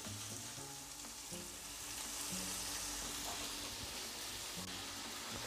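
Onion softening over medium heat in a frying pan, a steady low sizzle and crackle running throughout with soft stirring scrapes, close and continuous with no voices.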